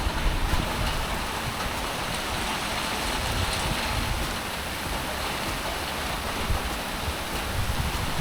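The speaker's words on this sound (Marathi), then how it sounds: "इथून तुम्हाला मी दाखवतो किती जोरात पाऊस पडतो आहे" Heavy monsoon rain pours steadily near Lonavala, heard from a back gallery, a dense, even hiss with no voices.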